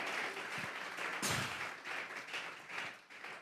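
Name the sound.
church congregation applauding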